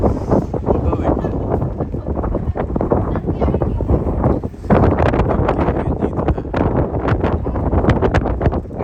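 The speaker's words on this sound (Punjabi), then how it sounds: "ਹਵਾ ਬਹੁਤ ਤੇਜ਼ ਚੱਲ ਰਹੀ ਹੈ" Strong wind buffets the microphone on the deck of a BC Ferries ship sailing to Victoria, a loud, gusty rumble with irregular thumps throughout and faint voices beneath.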